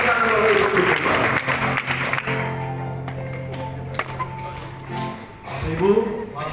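A church congregation claps together during a Christmas service in Purwakarta, a dense patter of applause lasting several seconds and blending with a voice and sustained musical tones.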